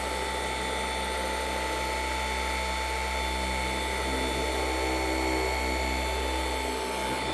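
A Milwaukee M18 FUEL 15mm random orbital polisher runs continuously at steady high speed, a loud sustained whine and hum with no pauses and no talking over it.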